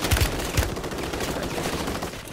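Rapid automatic gunfire in Warzone 3 crackles in a dense, continuous burst with a couple of heavy low thuds at the start, loud and close throughout.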